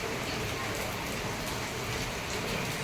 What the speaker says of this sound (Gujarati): બહાર જો કેટલો સખત વરસાદ પડી રહ્યો છે.